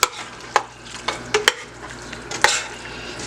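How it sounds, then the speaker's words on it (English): Oxtail stew with orange and green peppers being stirred in a cooking pot, with a few sharp scraping clatters of the spoon against the pot over a soft, steady sizzle. "And now you're going to give it a good stir again."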